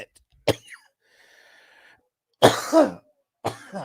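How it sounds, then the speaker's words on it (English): A man coughs several times right into a close microphone, sharp harsh bursts separated by short pauses, loud and near. "I'm coughing right in the mic"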